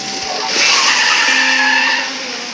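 A car skids in a video game with a sustained, loud tire squeal over a steady engine roar. It lasts the whole moment and no voice is heard.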